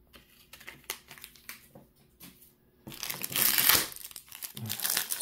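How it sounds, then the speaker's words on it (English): Packs of 2023 Topps Series 2 baseball cards torn open by hand, with light crinkles at first, then a loud, sustained crackle of wrapper foil close by, with no talking. "right now I'm just enjoying opening cards"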